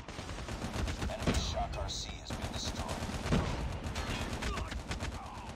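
Repeated SMG bursts crackle through a Call of Duty Mobile firing range match, steady rapid fire with sharper shot peaks, layered over busy game noise.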